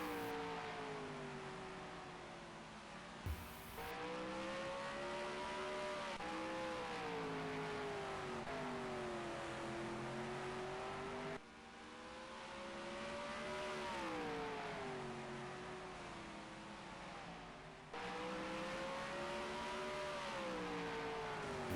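Supermodified race cars in a sim racing game drone past in steady waves, their high engine notes rising and falling as they pass, loud and continuous for the whole stretch.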